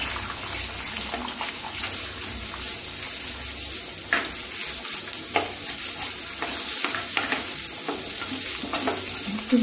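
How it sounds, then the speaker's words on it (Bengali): An egg hits hot oil in a pan for Indian-style spicy masala egg pasta, giving a steady loud sizzle with scattered crackles and pops, close by and without voices. "তেলটা একটু গরম হলে আমি ডিমটা দিয়ে দেবো, এতে তেলটা হয়ে গেছে, আমি ডিমটা দিয়ে দিচ্ছি।"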